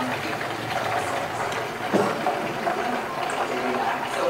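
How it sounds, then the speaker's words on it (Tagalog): Oil drips and trickles off two whole fried chickens as they drain, a steady watery patter that runs the full length with no pauses and no talk. "i-drain muna natin yung oil para hindi nga naman mag-ano"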